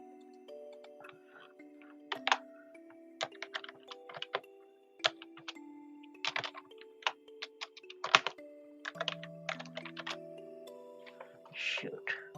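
Typing on a computer keyboard, bursts of crisp clicks with short pauses between, close and clear over a faint background tone.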